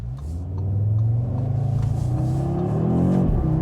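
Audi RS3 sedan with a turbocharged five-cylinder engine accelerating hard, a deep, loud, continuous rumbling growl that rises in pitch, heard from inside the car with no talking.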